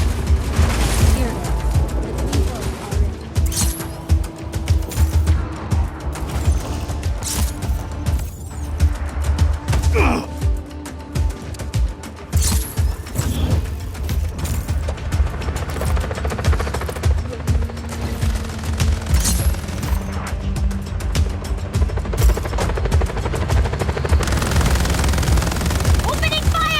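Continuous heavy gunfire in Just Cause 4, dense machine-gun rattle and crackling shots mixed with booms and explosions, loud and sustained throughout with shouting voices under the barrage.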